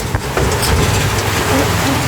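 Heavy outdoor rain growing stronger, a loud, dense, steady hiss of downpour filling the whole clip.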